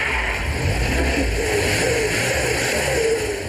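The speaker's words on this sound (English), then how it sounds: "Leepu's broken heart leaps when he hears what the supercharger has done to the engine." A supercharged car engine revs loudly and steadily up close, a dense roaring drone holding for a few seconds with no pauses.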